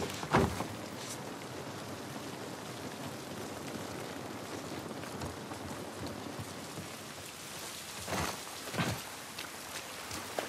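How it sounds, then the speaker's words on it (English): Steady rain pours throughout in the Boston quarantine zone of the video game The Last of Us Part I, a dense hiss with a few louder gusts or splashes near the start and toward the end, and no talking. "This rain ain't gonna do us any good."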